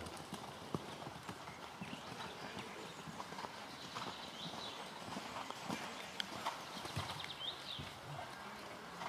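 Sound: horses cantering in riding arena, hoofbeats

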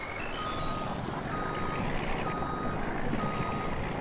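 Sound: truck engine and reversing beeps in video game

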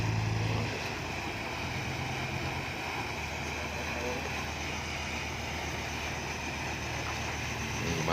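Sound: tugboat engine approaching

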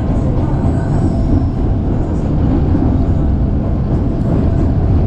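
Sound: commuter train passing on a sharp curve near Cilebut

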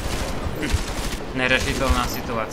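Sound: gunfire in the video game Deus Ex: Mankind Divided

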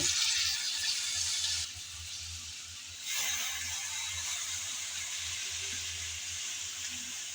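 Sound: washed drumstick greens sizzling as added to pan

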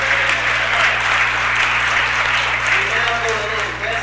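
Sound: audience applause at city council meeting

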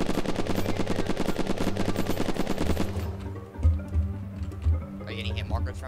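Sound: gunfire in the video game Unturned

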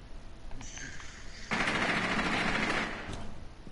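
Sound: gunfire in the video game Rainbow Six Siege

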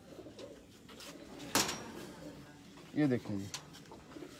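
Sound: pigeon cooing

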